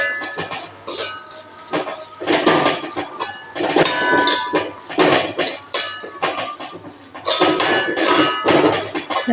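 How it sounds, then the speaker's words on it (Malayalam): Idli masala with vegetable masala powder being stirred in a pan, giving repeated clattering scrapes and knocks of a spoon against metal in irregular bursts, fairly loud and close, with no talking. "നന്നായി ഇളക്കി കൊടുക്കാം."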